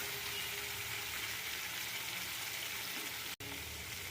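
Fish pieces frying in a pan, a steady broadband sizzle that holds at an even level throughout, broken only by a very brief dropout near the end.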